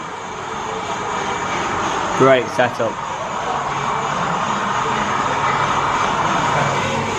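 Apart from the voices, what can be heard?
Hornby model train locomotive running on layout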